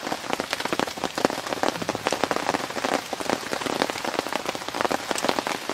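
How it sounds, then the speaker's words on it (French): Steady rain falling during a fishing outing, dense drops pattering loudly and continuously on nearby surfaces, a close, even downpour with no speech. "avoir une bonne pluie comme ça pendant 1 heure ou 2"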